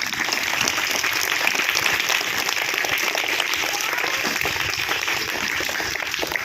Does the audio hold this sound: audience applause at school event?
yes